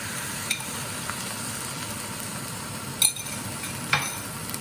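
Soy sauce marinade sizzles steadily in a wok of shrimp and vegetable fried rice, a continuous hiss broken by a few sharp clinks and scrapes of a utensil against the metal.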